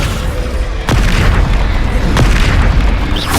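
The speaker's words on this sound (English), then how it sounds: "Confringo!" Confringo spell explosions in Hogwarts Legacy, two sharp booming blasts about a second apart amid a constant loud roar of combat, close and forceful, with a whooshing flare near the end.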